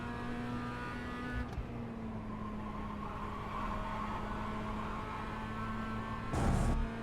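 A race car engine at Lime Rock Park holds a steady droning pitch, then surges toward full throttle with a brief louder burst near the end, heard from inside the car without talk.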